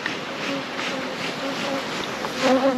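Honey bees at a commercial beehive make a dense, continuous buzz recorded up close, steady and fairly loud throughout, with no voices.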